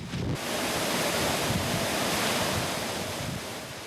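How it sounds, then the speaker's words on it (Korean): Rough Antarctic sea off a krill fishing boat, with loud continuous wave surges and gusting wind roaring steadily throughout, no voices. "동산호는 다시 거칠게 몰아치는 남극 바다와 맞서고 있었다"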